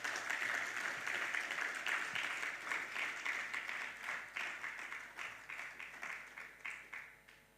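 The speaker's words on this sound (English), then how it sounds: "A warm round of applause to her as she makes her way." A conference audience gives a warm round of applause for a female State Department official as she walks to the podium, dense clapping that holds steady then gradually thins and fades, with no talk over it.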